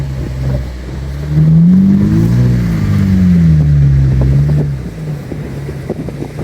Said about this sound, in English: on this vehicle, we have the Dash off-road caliber exhaust.